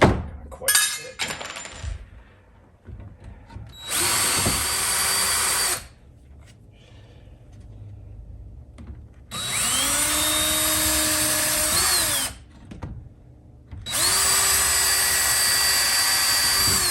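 A power drill bores holes for mounting an electric fireplace, running in three loud bursts of several seconds each, its whine rising and falling with motor speed and separated by quieter pauses.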